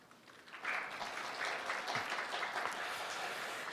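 Warm applause from an audience welcomes a minister on stage at a public event, a steady, fairly distant wash of clapping that holds throughout.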